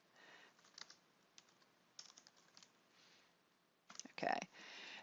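Clicks of typing on a computer keyboard come in short irregular bursts, fairly faint and close, with a louder cluster of keystrokes near the end.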